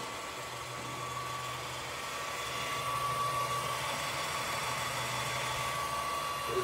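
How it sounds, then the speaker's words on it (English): Steady, fairly quiet hum of an IMA BL-1340 tool room lathe from Denmark, its spindle running at maximum 2000 rpm, with a constant whine and low drone that holds evenly throughout without talk. "Working of spindle at its maximum speed, that is 2000 rotations per minute"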